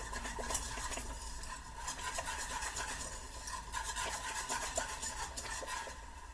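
A no-bake cookie mixture bubbles in a pot as it is brought to a rolling boil, giving a constant dense crackle and popping with occasional louder bursts and a faint scraping, close and steady throughout.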